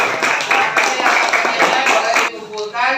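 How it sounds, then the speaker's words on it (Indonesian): A classroom group of students clapping together in a quick, dense burst of hand claps that fades toward the end, with talk mixed in. "tepuk tangan untuk kelompok kalian yang boleh"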